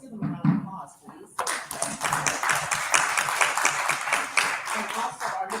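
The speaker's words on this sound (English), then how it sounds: "So let's give them a round of applause, please." Applause from an audience at a school meeting starts after a spoken line and goes on for several seconds as steady, dense clapping, with voices mixed in at the start.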